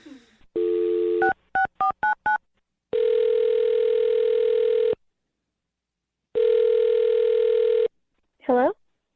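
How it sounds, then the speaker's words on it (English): Quick electronic keypad tones are punched in, then a telephone ring tone sounds twice in long steady bursts, followed by a brief voice answering. "I'm gonna dial her phone number right now, though."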